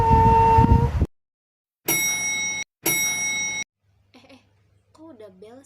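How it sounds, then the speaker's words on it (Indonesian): An electronic school bell rings in two sustained bursts with a short gap between them, clear and fairly loud, after a burst of classroom noise and before voices start talking. "Kok udah bel sih?"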